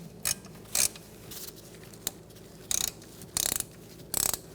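A socket ratchet with an Allen bit loosens a brake caliper slide pin on a 2004-2009 Mazda 3 rear brake, giving several short, close bursts of metallic clicking separated by pauses.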